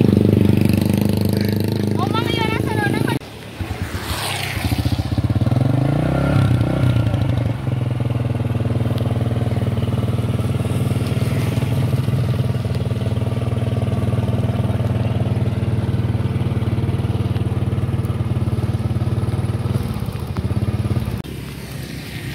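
A small automatic motor scooter, stalled after riding in rural rain, runs with a steady engine drone and occasional clatter, close by and loud, while people talk over it throughout.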